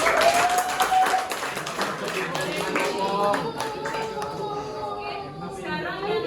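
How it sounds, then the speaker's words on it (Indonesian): Classroom group applauding after a student group's presentation, a burst of clapping with scattered taps and chatter, fading under ongoing voices and talk. "Tepuk tangan buat kelompok 1."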